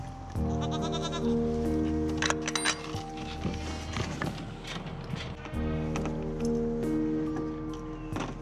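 Goats bleat loudly and repeatedly near a farm feeding station, long wavering cries overlapping one another with some shuffling and knocking in between, close by and without talk.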